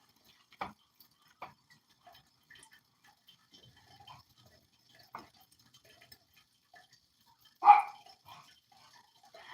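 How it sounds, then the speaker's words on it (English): A dog gives a few short, scattered barks at a distance, with one louder bark later, separated by long quiet gaps. "you may hear barking"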